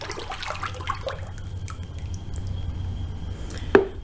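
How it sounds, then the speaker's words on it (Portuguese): Vegetable oil poured into a batch of homemade multipurpose soap, a steady liquid pour with wet splashing and a few drips, ending in a couple of sharper knocks, close and fairly loud. "aqui eu vou colocar o óleo"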